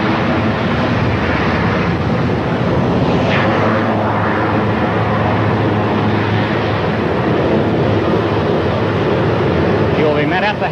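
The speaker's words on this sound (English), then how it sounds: "And here is the President's helicopter taxiing to a stop." Presidential helicopter taxiing to a stop at a 1963 San Diego arrival, a steady loud rotor and engine roar with heavy wind buffeting that fills the whole stretch without a break.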